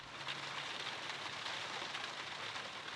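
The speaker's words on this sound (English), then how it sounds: "I think the rain effect is literally only on the windows." Rain patters on windows in Sherlock Holmes Crimes & Punishments, a soft, dense, even hiss of drops continuing without pause at low level.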